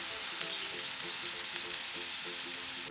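Fiddlehead ferns stir-frying in a hot pan give a steady, close, dense sizzle that runs continuously with no talk, punctuated by faint clinks of the utensil.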